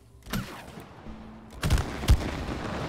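Gunfire in the co-op video game It Takes Two: a few sharp, loud shots ring out, one early and two close together near the end, over a low ambient game hum.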